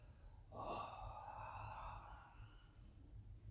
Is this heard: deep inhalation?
yes